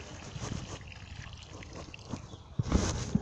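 Water poured out in a garden, a soft continuous trickle and splash with a louder gush near the end, fairly close and alone.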